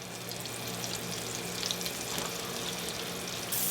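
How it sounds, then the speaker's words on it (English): Leeks, celery, mushrooms and other vegetables stewing in vegan butter and olive oil for vegetarian stuffed cabbage rolls, giving a steady, even, close-up sizzling hiss that holds at one level throughout. "I'm going to kind of stew these vegetables in a little bit of butter"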